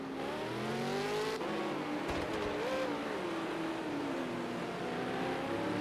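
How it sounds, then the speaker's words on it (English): A V8 Supercar doing a burnout down the pit lane at Ruapuna Park to heat its rear tyres, its engine roaring loud and steady with wavering revs and some tyre squeal, no talk. "burnout down pit lane, getting some temp into the back tyres"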